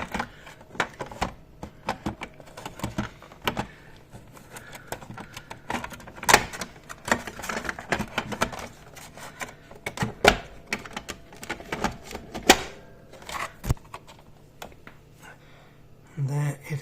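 Clicks, knocks and handling clatter as a part of a Bosch SMV53L00GB dishwasher is pressed back into place, with sharp snaps spread through the stretch and a voice now and then.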